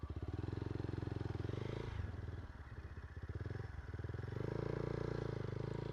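Motorcycle engine revving steadily, then dropping to a lower throbbing note as it pulls away in first gear, then climbing again; loud and close, with no talk over it.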